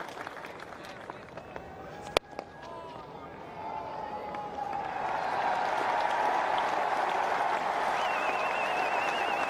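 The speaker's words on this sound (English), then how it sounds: "Great cheer going around, Lords, from the Indian supporters and from the dressing room." Crowd at Lord's cheering and applauding during a 2007 England v India Test cricket match, swelling from a scattered murmur into a loud, sustained roar in the second half, with a commentator speaking over it.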